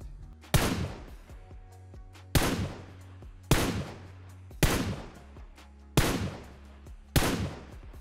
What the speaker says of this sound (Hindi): अब हम देखेंगे अगर सामने बंदे के पास लेवल 3 की वेस्ट है तो आप लोगों को कितने शॉट्स फायर करने पड़ेंगे M4 से